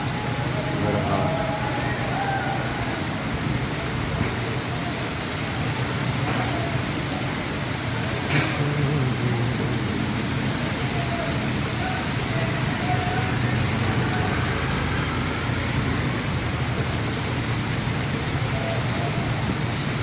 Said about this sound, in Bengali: প্রচুর দ্বারে বৃষ্টি হচ্ছে, প্রচুর দ্বারে। কি বাতাস,